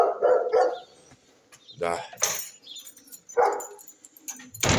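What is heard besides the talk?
dogs barking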